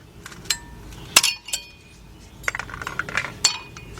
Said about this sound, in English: Remove those little clippies on the rotors.